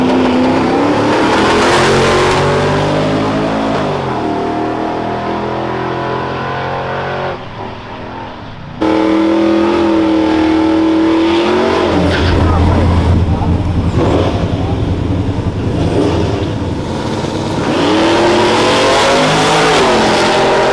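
Boosted trucks running nitrous, turbos and superchargers rev and race, loud engine roar climbing and falling with a brief drop near the middle, with people talking over the noise.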